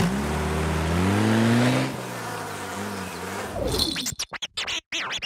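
Cartoon flies buzzing in a French children's animated episode, a droning, pitch-sliding buzz that swells then thins, ending in choppy, stuttering bursts of the buzzing.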